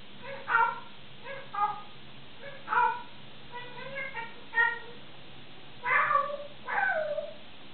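An African grey parrot imitates a cat, giving a string of short meows spaced out over several seconds, with two longer, louder meows near the end.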